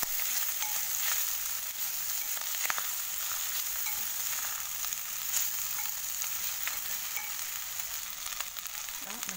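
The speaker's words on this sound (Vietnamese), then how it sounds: "Sau khi sả, ớt, không tỏi mình nó vàng rồi là mình cho thịt vào mình xào tiếp, xào cho nó thịt nó thơm nữa ha." Meat sizzles steadily in a hot pan with lemongrass and chili as it is stir-fried, giving a dense, continuous crackle with occasional scrapes from stirring.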